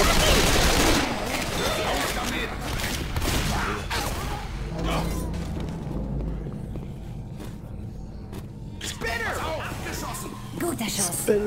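Rapid gunfire in the zombie shooter game Left 4 Dead 2, with dense bursts of shots and clattering action under a continuous game soundscape, while players talk over it.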